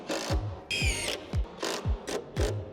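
A power drill bores into wall sheathing in short repeated bursts, each whirring pulse winding up and cutting off, with a higher-pitched whine in one burst.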